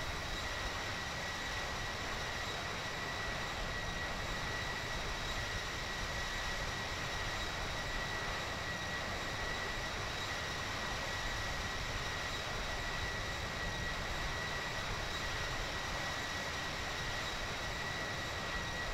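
Steady, even roar of an F-16 jet engine in the flight simulator game Infinite Flight, holding at a constant level throughout with a faint high whine on top and no talk.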